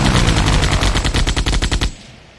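Biplane machine gun in the Ace Patrol flight game, Somme Offensive mission, firing a loud rapid burst of about a dozen close, evenly spaced shots for nearly two seconds before cutting off.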